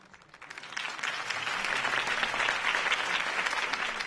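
A crowd bursts into steady applause at a political campaign speech in the video game Batman: The Telltale Series, swelling after a quiet start and holding loud, continuous clapping.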